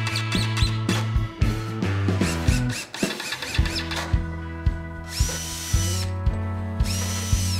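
A power drill fitted with a self-centering bit bores pilot holes and drives screws into 3/4-inch stock for a shoe storage box, with a run of short, close, loud whirring bursts and repeated motor starts and stops.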